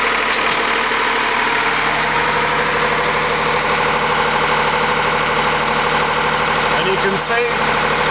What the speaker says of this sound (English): the motor whizzing round